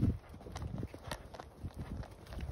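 A horse cantering on command, its hoofbeats landing as soft, rhythmic clip-clops at a moderate distance over a steady outdoor background.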